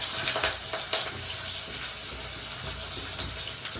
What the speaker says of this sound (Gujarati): આ ગાઈસ દાળનો વઘાર થાય છે.